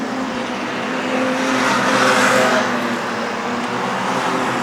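Street stock race cars roar down the main straight of a race track, a loud sustained engine drone that swells around the midpoint as the field passes, with steady motor harmonics and no talk.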